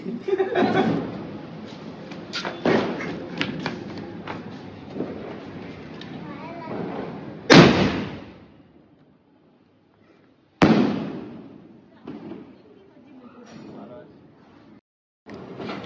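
Firecrackers going off on a rooftop during Kali Puja: several sharp, loud bangs and crackling bursts with echoing decay, separated by pauses, amid excited chatter and laughter.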